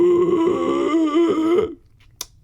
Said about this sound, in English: What you're doing here is you are inhaling Ingressive and creating sound, phonation.